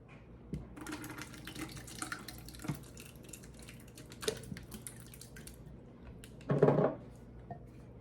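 Ingredients poured into a crockpot while assembling a dump-and-go slow cooker meal, giving liquid splashing and dripping with a louder pour burst near the end over a steady background hum.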